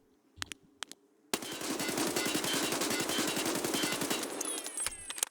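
Sustained automatic gunfire from a weapon being recoil-tested in Escape from Tarkov, a rapid, even burst of loud shots lasting about four seconds after a few brief clicks, with no talking.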